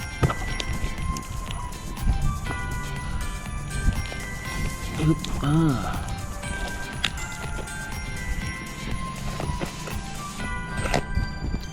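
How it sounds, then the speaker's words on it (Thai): A returned parcel, packed with bubble wrap inside, is torn open and unwrapped by hand, giving close, continuous crinkling, rustling and tearing with scattered sharp clicks, and a man murmurs once. "เรามาแกะดูก่อนนะครับ"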